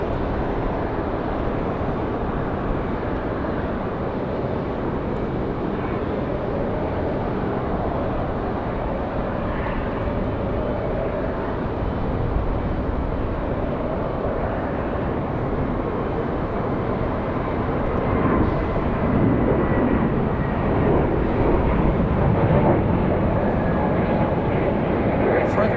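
A Frontier Airlines jet takes off from Raleigh-Durham bound for Atlanta, its engines a broad, steady roar that swells slightly near the end, with faint talk beneath.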